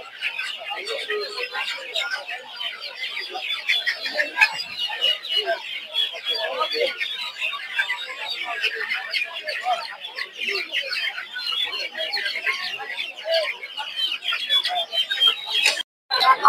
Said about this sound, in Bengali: দেখতে পাচ্ছেন এই জায়গায় প্রচুর পরিমাণ হচ্ছে ফার্মি মুরগি।